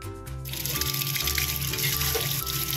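Glutinous rice is washed in water at a sink, a steady splashing and gushing rush of running water filling a container, close and continuous throughout.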